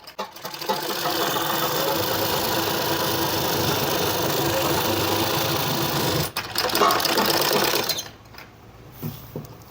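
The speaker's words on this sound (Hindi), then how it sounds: "अब इस सिलाई को यहाँ तक कंप्लीट करेंगे।" A sewing machine stitching a palazzo seam hums loudly and steadily for several seconds, then pauses briefly before a final short run; no one talks.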